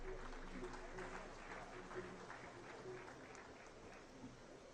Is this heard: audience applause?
yes